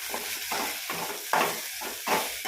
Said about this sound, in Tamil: நல்லா சிம்மை குறைச்சி வச்சு கிண்டிக்கணும்